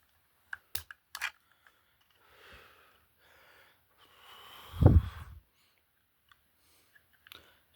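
Wire cutters snip the end off a slightly long electrical wire while wiring a GE Cync smart switch, a single sharp close cut with a few small clicks of handling before and after.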